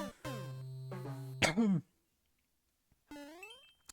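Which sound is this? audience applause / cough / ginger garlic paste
cough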